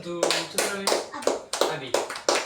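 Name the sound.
class applauding a student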